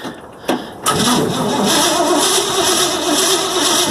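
A 1956 Chevy engine sputtering as it tries to start: a couple of short cranking bursts, then the engine catches into a loud, rough, uneven running roar that keeps going close by.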